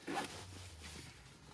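A zipper on a Shaw Concept plate carrier pack pulled in one quick, close zip, then a faint fabric rustle.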